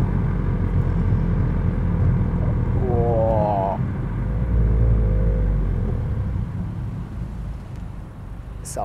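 Engine of a Honda Civic FK7 with a manual gearbox, heard from inside the car as a steady low rumble, with revs rising and dropping through a gear change around the middle before settling again.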